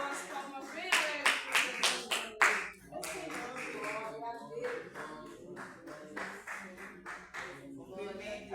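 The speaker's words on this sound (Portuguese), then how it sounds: "com as palmas bem alegres" Church congregation clapping joyfully in rhythm during a morning worship service, loud and close at first, then steady clapping continuing with singing or voices mixed underneath.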